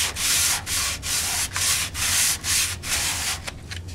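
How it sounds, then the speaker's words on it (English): Bondo body filler on a Yamaha FZR restoration being sanded by hand with sandpaper, steady close rhythmic back-and-forth rasping strokes about twice a second, loud and alone, with a few shorter scrapes at the end. "Now what I do, I move the sandpaper over. Now I've got a brand new piece of sandpaper."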